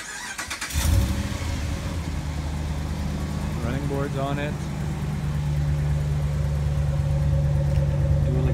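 A 2013 Ram 1500 BigHorn crew cab with a 5.7 Hemi V8 and dual exhaust cranks and fires up, then settles into a steady, even idle while someone talks close by.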